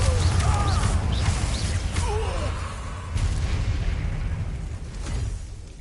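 The Confringo fire spell from the Hogwarts Legacy video game erupts in a loud, rumbling explosion amid combat sounds, with booming bursts and a short grunt or gasp from a character.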